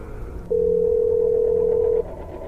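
A single steady telephone tone sounds for about a second and a half, clear and continuous over faint background noise.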